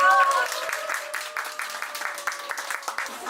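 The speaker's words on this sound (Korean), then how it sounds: "역사에 불을 지필 에탄올쌤 박수로 맞이해주세요." Audience applause welcoming a history lecturer onto a stage, a steady wash of clapping with tonal voices or a cue sound mixed in near the start, fairly loud throughout.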